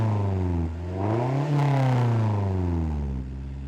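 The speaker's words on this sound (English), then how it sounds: "that's what the intake and the exhaust sounds like now" A car engine revs up and settles back, its intake roar and exhaust note rising in pitch and then falling, loud and close, with no talking.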